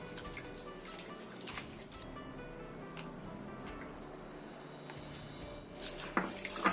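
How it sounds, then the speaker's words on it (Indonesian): Chopped kemangi basil being rinsed in water, with soft drips, trickles and light splashing from a tap or basin, fairly quiet and steady, with a brief burst of clinks and splashes near the end. "Kemanginya yang sudah kita potong-potong ini kita cuci sampai bersih."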